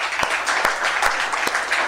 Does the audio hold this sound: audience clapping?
yes